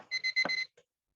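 A workout timer sounds four quick, shrill electronic beeps in a tight cluster, then one faint short blip before silence.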